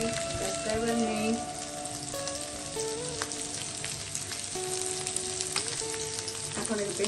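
Oil frying in a pan with a dense, steady sizzle and crackle, up close, with faint voices in the background.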